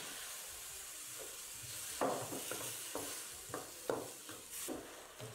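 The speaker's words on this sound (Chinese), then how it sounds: "炒软后加调好的料汁翻炒均匀" Napa cabbage stir-fried in a wok after a seasoning sauce is added: a soft, steady sizzle with repeated scraping stirs of the spatula, each toss bringing a brief louder hiss, fairly quiet and without talk.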